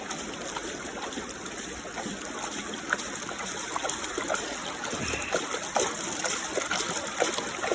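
Water splashes and trickles in a bucket while panning for fine flour gold outdoors, a soft continuous sloshing with small splatters and drips and no talking.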